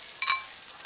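Shrimp and grated coconut drop into a pan of frying spice paste, giving one quick, bright sizzle burst that fades into a faint, steady hiss.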